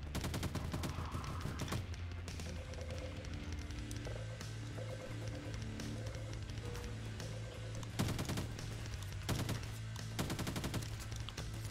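Modded AR rifle in the video game Garry's Mod fires in rapid bursts of dense, continuous gunfire, loud and close, with brief pauses between volleys.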